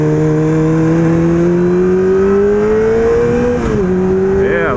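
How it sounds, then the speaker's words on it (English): A crossover and a utility truck accelerate off the line together, their engines roaring loud and close with rising, sustained revs across the whole stretch and a brief shift-like dip near the end. "Think the crossover will be faster off the line than the utility truck?"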